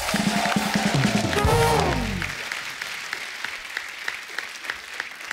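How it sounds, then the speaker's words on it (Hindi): A TV comedy show studio audience claps steadily, the applause continuing throughout; early on a tonal musical or voiced sound rises over it before fading. "जोरदार तालियां हो जाए एक बार"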